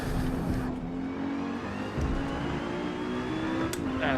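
A car on the Nurburgring in the video game Forza Motorsport holds a constant engine drone at speed, with small shifts in pitch and faint tire noise, loud and continuous.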